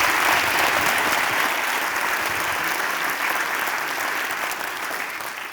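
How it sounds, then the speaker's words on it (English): A university lecture audience claps loudly for a talk on bats and owls, a full, sustained round of applause that tapers off slightly toward the end. "they deserve a better round of applause than that half-hearted one"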